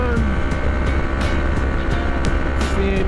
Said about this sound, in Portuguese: devagarinho tá acelerando.